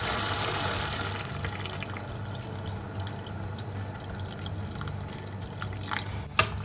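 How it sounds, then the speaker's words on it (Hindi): Half a litre of water poured into a pot of fish soup, a steady splashing trickle with faint drips, ending in a sharp clink. "अब थोड़ा हिलाने के बाद आपने इसमें आधा लीटर पानी डाल देना है।"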